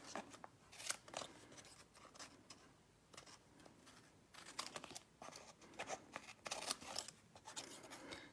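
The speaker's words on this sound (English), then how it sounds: "cutting the rectangular shapes first, then cutting diagonally" Scissors snip through decorative paper, cutting rectangles and then diagonal starburst strips, a close, quiet run of crisp irregular cuts with paper rustling between bursts.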